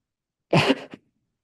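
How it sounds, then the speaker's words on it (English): A single sharp sneeze bursts out close by, followed by a short breathy catch, then silence. "I'm going to sneeze, I think so."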